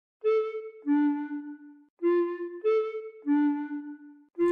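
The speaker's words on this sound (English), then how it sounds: "That's the Song of Time" Song of Time played on the Ocarina of Time in a Minecraft Majora's Mask mod, a short melody of six clear hollow ocarina notes in two matching phrases, clean and alone.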